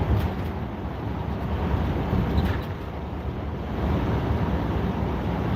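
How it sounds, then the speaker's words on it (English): Wind buffets an outdoor microphone with a steady, dense low roar and rushing that swells and eases slightly throughout, with no speech over it. "but it's windy out here"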